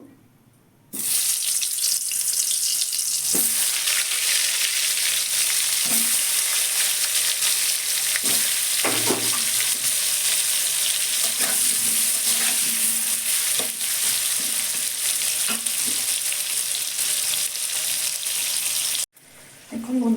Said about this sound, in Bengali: তেল গরম হয়ে গেছে আলুগুলো আমি ভেজে নেবো